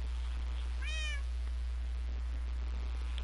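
An ocelot in the video game Minecraft gives a single clear, rising-and-falling meow, fairly close, against a quiet background with a constant low hum and no talking.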